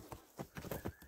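Horse hooves clip-clop in about five evenly spaced, fairly close beats during a short ride, with no talking over them.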